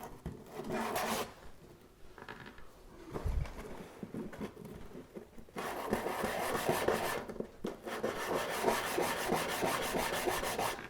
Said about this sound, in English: it's loading the sandpaper up pretty well